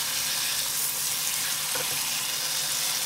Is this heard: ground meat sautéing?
yes